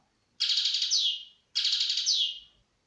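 Goldfinch delivering the tata note twice in succession, each a bright rapid trill about a second long that closes with a falling sweep, crisp and near with silence between.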